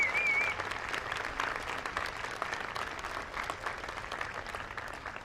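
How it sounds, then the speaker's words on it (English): Sustained audience applause at a school commencement ceremony, a dense wash of many hands clapping that stays fairly loud and even for several seconds, with no speech on top. "Can we give them a round of applause, please?"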